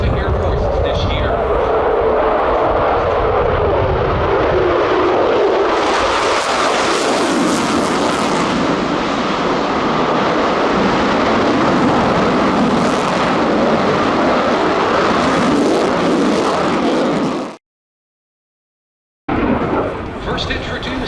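Lockheed Martin F-22 Raptor fighter jets flying at the EAA AirVenture airshow in Oshkosh produce a loud, sustained broadband jet roar that swells midway, with a public-address announcer talking over it before a brief cut to silence near the end.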